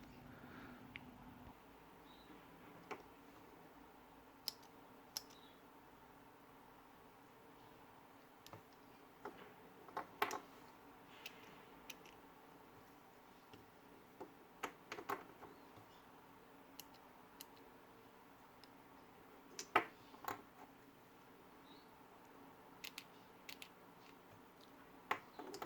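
Faint, sparse clicks from a Staedtler 925 35 mechanical pencil's lead advance scattered over a quiet room, a few small mechanical ticks every second or two, close by and soft.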